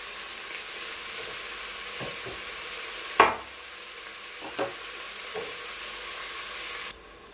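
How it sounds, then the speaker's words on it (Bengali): Mutton frying in a pan, a steady low sizzle under a few brief stirring clatters and one sharp scrape, ending with a sudden drop in the sizzle. "দেখুন প্রায় মাটনটা ভাজা ভাজা হয়ে গেছে"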